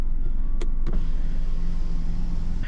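Electric power windows of a 2025 Kia Sonet GTX Plus with one-touch up-down, humming steadily as the glass travels, with a couple of sharp clicks near the start and a thud as it stops, loud and close inside the cabin.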